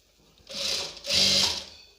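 A sewing machine stitching dori piping onto a kurti neckline runs in two short close bursts, a rapid whirring chatter with a brief pause between them.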